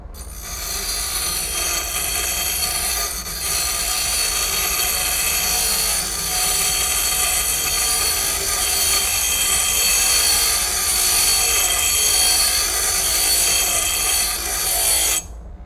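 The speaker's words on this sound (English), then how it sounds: "I'll just keep using the bench grinder" A bench grinder shapes a metal piece for a frame rail patch, giving off a loud, continuous high-pitched whine and screech that holds steady for the whole stretch with no talking.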